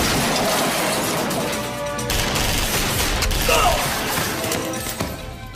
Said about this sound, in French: On dirait une fusillade.